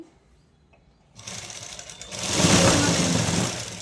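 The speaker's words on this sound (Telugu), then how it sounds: "నేనైతే మిషన్ కుట్టుకుంటా" Sewing machine stitching starts after a quiet second, a close, loud rapid mechanical rattle that speeds up and holds steady to the end.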